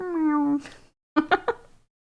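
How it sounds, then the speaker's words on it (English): Domestic cat meowing: one long drawn-out meow, a short pause, then a quick run of three shorter chirpy meows, close and clear with no talking. "Like a meow."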